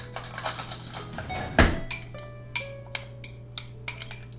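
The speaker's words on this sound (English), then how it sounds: "So you want to mix this up really well." A spoon clinks against a bowl while black pepper, garlic powder and dill are stirred into a homemade ranch seasoning, with sharp ringing taps spaced unevenly over a few seconds, close and clear.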